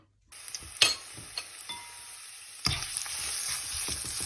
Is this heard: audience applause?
no